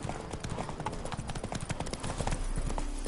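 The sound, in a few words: horse hooves clip-clopping in a video game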